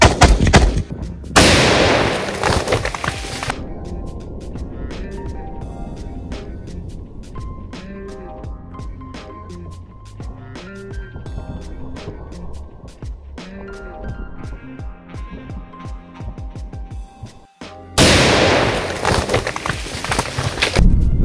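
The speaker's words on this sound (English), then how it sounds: "a huge pile of fake trash decor art that we're going to explode with tannerite" Tannerite set off under a large pile of fake decor art: a loud blast and roaring burst at the start, a long stretch of crackling, clattering debris and noise, then another loud burst near the end.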